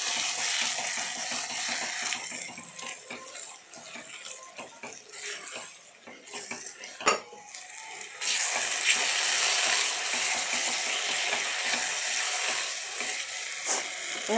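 Brinjal gravy cooks in a pan with a continuous loud sizzle and bubbling, stirred with scraping movements and one sharp utensil clack midway; the frying grows brighter and more intense in the second half.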